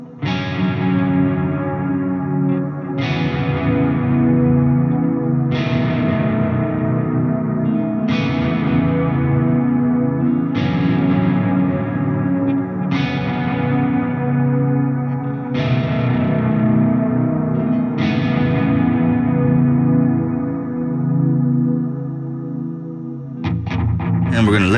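Jackson Soloist SLX electric guitar in Orange Crackle, played on the neck pickup through effects, about eight evenly spaced ringing strummed chords, each decaying under chorus and echo, loud and close, ending with a brief noisy burst.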